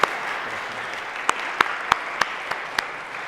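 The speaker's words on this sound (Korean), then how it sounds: "다시 한번 박수로 격려하겠습니다." Light applause from a small church congregation at a Sunday service: soft scattered clapping under a few sharp, distinct claps that stand out at irregular intervals.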